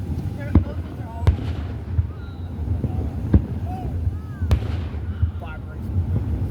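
Fireworks exploding at a large backyard display, several sharp booms spaced a second or so apart with crackling and whistling between, moderately distant, while people talk.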